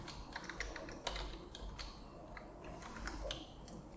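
Quick, light clicking of a computer keyboard as JavaScript code is typed, irregular bursts of keystrokes close and fairly faint over a low background hum, with no speech.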